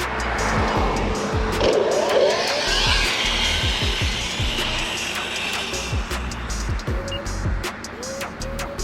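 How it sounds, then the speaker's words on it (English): A fast RC car races about with high whining motor bursts and repeated sharp revving sweeps, tires squealing as it skids and passes close by. "What an interesting car to drive, man, let me tell you."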